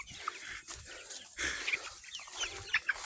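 Native chickens cluck and chatter on a farm, a busy scatter of short calls at moderate distance with faint background rustle.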